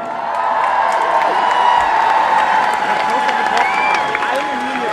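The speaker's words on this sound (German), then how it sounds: "Großen Applaus!" Applause and cheering from a climate strike crowd fill the air, dense sustained clapping with a few whoops rising out of a broad, steady wash of noise, close and loud throughout.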